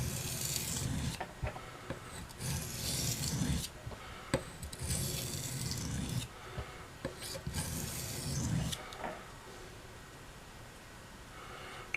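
A knife blade is worked across a whetstone to raise a burr, giving repeated rasping strokes in an uneven rhythm of bursts, close and fairly quiet, fading into a softer stretch near the end.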